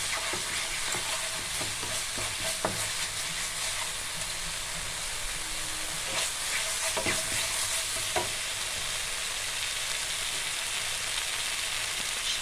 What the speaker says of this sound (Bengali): রেড চিলি পাউডার হাফ চামচ, দিয়ে মশলাটাকে ভালো করে আমি কষাবো।